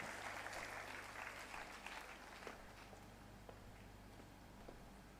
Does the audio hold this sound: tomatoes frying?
no